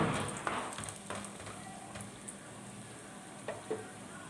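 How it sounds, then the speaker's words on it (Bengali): Bori lentil dumplings frying in oil for shukto, a close continuous sizzle with scattered pops and light stirring taps, fading slightly over time, no voices. "বড়িগুলো একটু লাল লাল করে ভেজে আমি তুলে নেব প্রথমে।"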